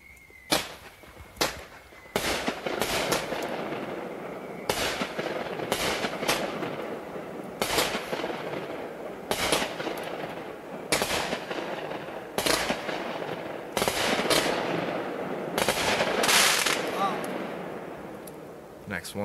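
A home New Year's fireworks display being set off one shot at a time, sharp launch bangs and crackling bursts arriving in irregular clusters at close range, with people talking in between.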